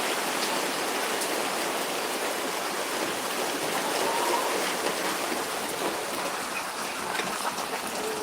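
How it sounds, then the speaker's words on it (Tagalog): Rain falls steadily, a dense, even hiss of drops that runs unbroken from start to finish with no voices. "Umulan na, umulan na."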